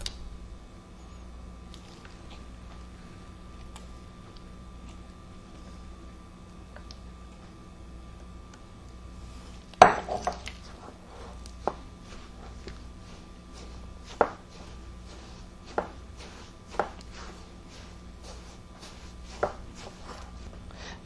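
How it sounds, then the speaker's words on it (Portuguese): A grated coconut and condensed milk filling (500 g coconut, 800 g condensed milk) being stirred together for an orange-coconut roll. Quiet at first, then a scatter of soft, sharp taps and squelchy clunks every couple of seconds. "Para o recheio, vou utilizar 500 gramas de coco ralado e 800 gramas de leite condensado. Vou misturar os dois."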